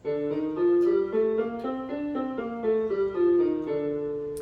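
A Phrygian scale of sustained notes climbs and falls stepwise, played smoothly at a moderate pace with a dark, exotic flavor.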